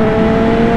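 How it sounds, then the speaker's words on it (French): A Suzuki GSX-S1000 motorcycle engine drones loud and close in a brief, steady burst of revving, with no voices over it. "écoute-moi ça mon copain, comment le bruit il est endiablé de la GSX-S1000"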